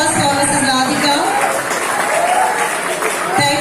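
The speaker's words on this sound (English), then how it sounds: "may I request for a wonderful round of applause for Mrs. Radhika." Applause from the audience at a school Golden Jubilee celebration, steady and fairly loud across the clip, with a voice or tonal sound mixed in over the clapping.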